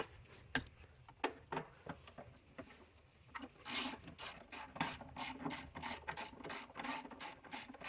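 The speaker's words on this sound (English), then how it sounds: "And now we tighten our 13mm bolts down here to fully secure our battery into location." Ratchet tightening the 13mm battery hold-down bolts on a 2013-2019 Mercedes-Benz GL X166, first a few separate clicks, then a fast steady run of sharp, close ratcheting clicks.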